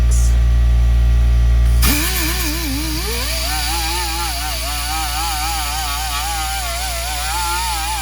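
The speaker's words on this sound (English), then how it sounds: "I'm gonna go ahead and sand around this edge" A power sander runs on the edge of the engine bay of a Dodge SRT-4 being shaved, a loud, close, steady whine whose pitch wavers as pressure on the metal shifts, following a brief louder burst at the start.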